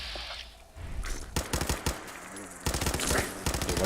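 Rapid bursts of gunfire ring out while shooting at bugs in the video game Fallout 4, loud and close, with several dense rattling volleys separated by brief pauses.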